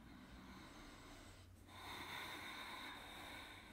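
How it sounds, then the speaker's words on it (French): Ujjayi breathing during a morning yoga flow: a soft, airy breath with a throaty hiss, a slow exhale fading, then a short pause and a fuller inhale, close and quiet with no talking. "Respiration Ujjayi, si vous connaissez, respiration avec son."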